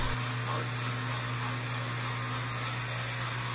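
A Tilswall M3 electric scrub brush runs at its fastest speed, giving a steady, loud motor whir with a constant low hum that holds evenly throughout, with no talking.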